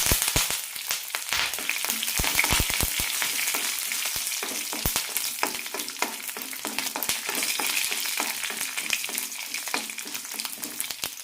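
Mustard seeds, red chillies and garlic crackle and sizzle in hot oil while making a tempering for urad dal tomato chutney; close, irregular sharp pops over a steady frying hiss, with no voices.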